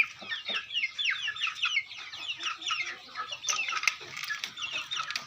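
Fighting-breed chickens on a Thai farm cluck continuously, several birds overlapping in busy, close, fairly loud calls with sharp bursts scattered through.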